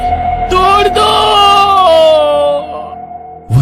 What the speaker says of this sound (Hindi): वो जोर से चीखा और फिर उसकी आवाज बंद हो गई।